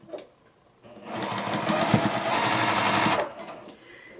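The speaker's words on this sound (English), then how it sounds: "I'm going to just sew them." A sewing machine stitches two lined-up quilt pieces for a mini quilt block, a rapid, steady mechanical whir running about two seconds after a brief quiet start, then stopping.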